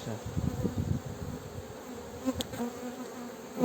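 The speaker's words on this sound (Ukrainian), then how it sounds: "Просто можете бачити стільки бджоли зверху" A dense, droning hum of many honeybees buzzes steadily up close over a hive, with a few brief louder passes and faint clicks.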